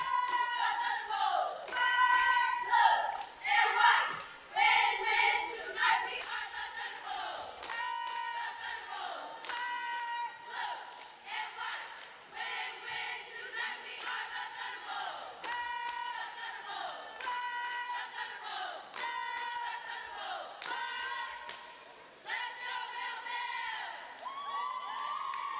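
A high school basketball cheer between quarters of the Egg Harbor Township Eagles versus Millville Thunderbolts game, a crowd of young voices chanting and shouting in rhythmic bursts with claps throughout.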